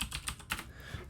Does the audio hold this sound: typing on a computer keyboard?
yes